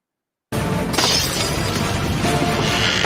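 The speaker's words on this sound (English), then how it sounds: "He smashed the bottle." A bottle shatters in a film scene, heard as a sudden crash of breaking glass followed by a dense, noisy clatter that stays loud and continuous for several seconds.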